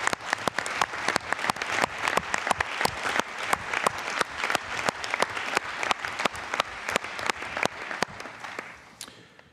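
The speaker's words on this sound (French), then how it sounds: "nous l'applaudissons chaleureusement" Warm applause fills a French regional assembly chamber, many hands clapping in a dense, rhythmic patter that holds steady for several seconds before fading out at the end; no voices over it.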